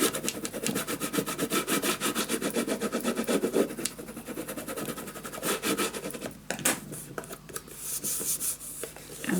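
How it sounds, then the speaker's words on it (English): Paper being burnished down by hand for a scrapbook album, a steady close scraping rub repeated in quick strokes, with a few brief pauses and sharper scuffs along the way. "Let's burnish this down."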